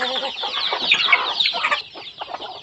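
Chickens being fed chopped Napier grass mixed with feed cluck and squawk loudly and close, a busy overlapping flock that thins toward the end.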